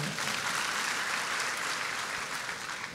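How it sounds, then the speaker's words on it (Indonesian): A church congregation claps together in a dense, steady roll of applause that holds at an even volume for the whole stretch, with no voice rising above it. "tepuk tangan Bu, tepuk tangan."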